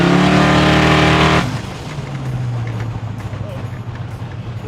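A Chevy C10 truck with an LS swap idles smoothly and steadily, loud and close, after a brief louder rev at the start.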